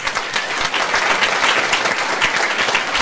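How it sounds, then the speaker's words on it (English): Audience applause at a virtual reality meetup, a warm round of clapping from a room full of people, sustained and even for a few seconds, close and lively. "let's give a warm round of applause"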